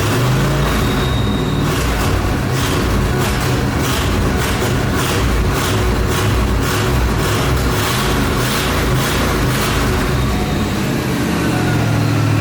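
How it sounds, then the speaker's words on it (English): A 1989 Ford Bronco engine with new battery cables idles loud and steady, a rough continuous rumble with a faint rhythmic ticking, no voices. "Just let her idle, see if she'll idle."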